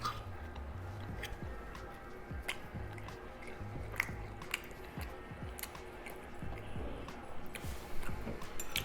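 Chewing and squishy biting while eating keto cheesy taco bites, close and soft, with irregular wet mouth sounds and small clicks spread across the clip and no talking.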